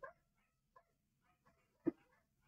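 Several pet dogs give a few scattered, short barks and yips, one sharper and louder bark standing out among softer ones, fairly near in an otherwise quiet indoor room.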